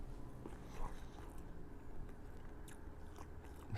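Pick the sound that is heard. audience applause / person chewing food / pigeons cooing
person chewing food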